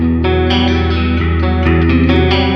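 A clean, compressed guitar tone from a Line 6 Dream Rig rings out as loud, chorus-tinged strummed chords with a few sharp picked accents, played continuously and close.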